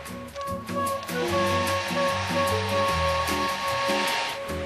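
A hair dryer held at a distance dries spattered paint on a painting, blowing with a steady airy hiss while soft music with shifting tones plays underneath, constant and fairly loud.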